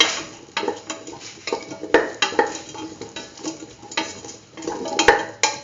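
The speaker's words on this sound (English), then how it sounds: "mix the lemon juice with the rest of the mixture" Lemon juice stirred into a curried beetroot and mung bean mixture in a metal pot, rhythmic scraping and clinking of a spoon against the pot with a faint sizzle underneath, close and steady.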